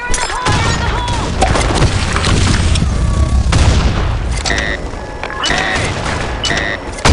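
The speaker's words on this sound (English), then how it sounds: "Grenade! Grenade! Grenade! Fire in the hole!" A grenade in the shooter game BlackShot goes off in a loud booming blast, mixed with dense gunfire and splintering impacts, in a busy, constantly loud battle soundscape.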